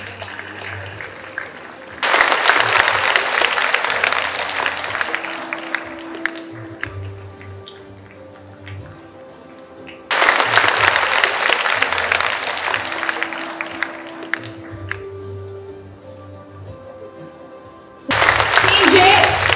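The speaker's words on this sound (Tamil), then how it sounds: "A round of applause ladies and gentlemen and students." Loud audience applause fills a school event hall in bursts, with three separate rounds of clapping, each starting abruptly and then tapering off into quieter gaps.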